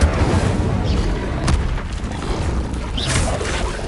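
A fiery Incendio spell cast in the video game Hogwarts Legacy, heard as a dense, roaring burst with a sharp crack midway and a second flare near the end, loud and close over constant game noise.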